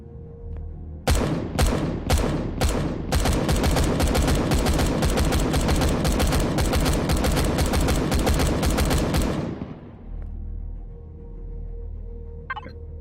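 Gunfire in Empyrion: Galactic Survival opens with a few spaced single shots, then breaks into a long, loud, sustained automatic burst of rapid cracks lasting several seconds before stopping abruptly, leaving a low ambient hum.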